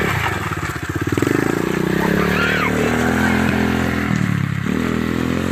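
A dirt bike engine pulls away in first gear, a steady close motor drone with rising revs as the clutch lets out, while people talk over it.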